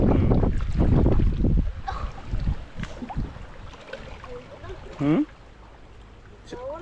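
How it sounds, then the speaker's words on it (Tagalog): Gusty wind buffets the microphone in strong rumbling bursts, easing off and then rising again, with scattered noises in the background. "Hangin oh."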